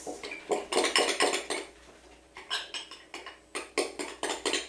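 Slime being mixed and swirled in a bowl, producing repeated clattering, clicking strokes in uneven bursts, fairly close and moderately loud, with no talking.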